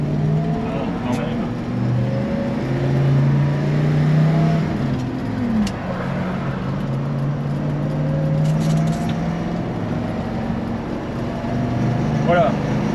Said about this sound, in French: j'ai passé la vitesse à un peu moins de 4000 tours. Il repart bien.